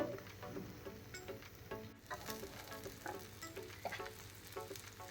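A leftover roti and vegetable snack cooks in a pan over a slow gas flame, giving a soft, steady sizzle with light crackles and scraping stir sounds, close and quiet without any talking.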